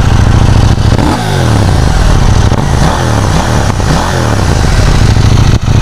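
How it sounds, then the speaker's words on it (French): A KTM 790 Duke motorcycle revs close and loud through its stock exhaust, with several sharp throttle blips rising and falling over a steady idle and no voices. "Vraiment niveau bruit, elle a vraiment un super bruit."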